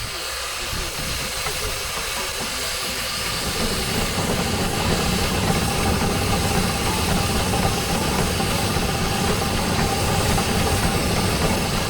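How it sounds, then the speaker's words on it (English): Steam ploughing engine venting, a loud continuous hiss of steam that swells after a few seconds and holds steady, with a whistle-like tone blended into the rushing noise. "First you'll see the steam, and then you'll hear the whistle."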